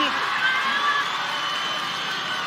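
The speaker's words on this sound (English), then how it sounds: "Crowd getting behind him." A large arena crowd at the American Ninja Warrior Las Vegas National Finals cheers and whoops for a competitor on the course, a loud, sustained roar of voices with higher shouts throughout.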